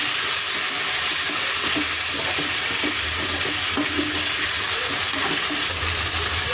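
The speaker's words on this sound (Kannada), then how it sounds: "ಇದು ಚೆನ್ನಾಗಿ ಎಣ್ಣೆಲಿ ಬಾಡಬೇಕು." Potatoes frying in oil and being stirred in a pan, a loud close steady sizzle with scraping and clattering from the stirring throughout.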